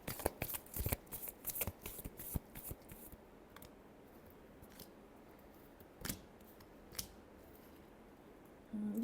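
Tarot cards are shuffled by hand in a quiet room, a quick flurry of crisp riffling flicks at first, then a few isolated soft snaps and slides, faint and close.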